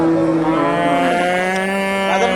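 A single long, loud moo from a crossbred dairy cow at the Dakumara cattle market, close by and sustained throughout, with faint background bustle.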